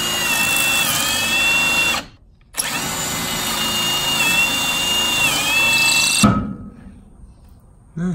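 A power drill with a giant bit boring through a Kreg pocket-hole jig while framing walls in a converted school bus: loud, steady whine in two long runs split by a brief stop, ending abruptly.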